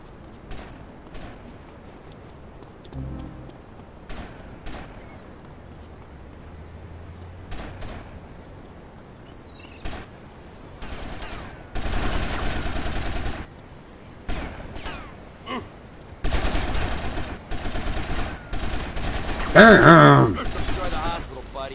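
Video game gunfire in GTA Liberty City Stories: scattered single shots early, then heavy rapid bursts and volleys growing louder toward the end, with quieter gaps between.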